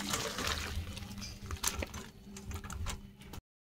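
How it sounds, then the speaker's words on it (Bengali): Boiled taro being drained, its hot cooking water poured off through a strainer in a home kitchen, giving a close, steady splashing and trickling pour for about three seconds that then stops abruptly. "জল ছেঁকে নেব।"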